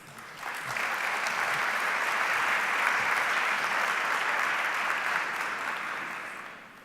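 An audience claps steadily to welcome a speaker to the stage at a maternal and child health event. The applause swells quickly, holds as a dense, even roar for several seconds and then begins to taper off, with no talking over it.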